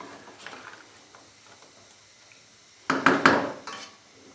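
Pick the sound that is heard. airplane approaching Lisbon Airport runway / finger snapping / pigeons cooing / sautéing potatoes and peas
sautéing potatoes and peas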